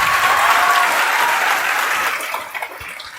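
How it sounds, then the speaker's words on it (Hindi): Students in a class clap loudly together in a dense, sustained burst of applause that gradually thins out toward the end, heard alone without talk. "आप सभी लोग इस संविधान निर्माताओं के लिए एक बार जोरदार ताली बजाइए"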